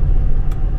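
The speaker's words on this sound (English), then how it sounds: "Engine sounds great." Low, steady engine rumble from a truck pulling a trailer at highway speed, a continuous drone heard from inside the cab with no talking.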